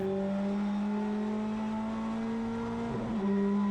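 British touring car engine at Coppice corner on a race track, a steady loud drone that wavers and dips near the end as the driver comes down the gears.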